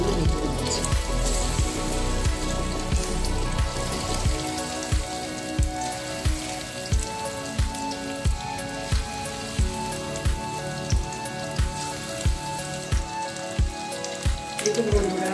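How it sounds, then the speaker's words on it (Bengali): Chili chicken pieces frying one by one in hot oil with garlic, a steady dense sizzle and crackle punctuated by regular soft plops and taps throughout, no voices. "আমি দেখুন এক এক করে এগুলো ভেজে দিচ্ছি।"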